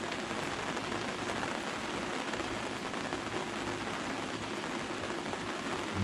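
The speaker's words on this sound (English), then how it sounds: "Rain's coming down." Steady rain falls outdoors at a deer camp during a storm, a constant dense hiss of drops hitting surfaces that stays even and moderately loud throughout, with no voices.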